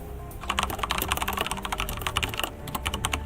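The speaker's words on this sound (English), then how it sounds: "while you're typing" Steady typing on a computer keyboard during an art livestream, a dense run of quick clicky keystrokes at close range, fairly quiet and continuous without speech.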